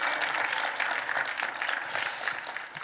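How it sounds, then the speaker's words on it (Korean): Audience applause for two pastors at a church healing event: a steady, dense clapping crowd that fills the whole stretch evenly, loud and close, with faint voices mixed in. "박경영 목사님, 이정희 목사님께 박수 한번 주세요"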